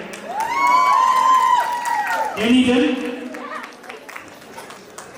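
Audience applause and cheering at a theatre performance rise beneath a voice speaking over a microphone, the crowd noise swelling around the talk.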